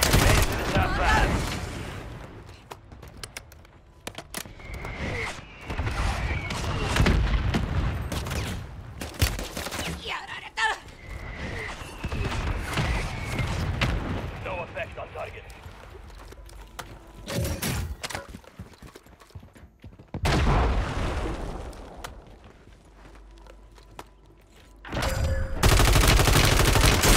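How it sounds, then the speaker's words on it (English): Shooter-game combat rolls through a mortar strike and bursts of gunfire, with rapid loud volleys and heavy thuds in waves separated by quieter gaps, and a big impact near the end. "Mortar strike inbound."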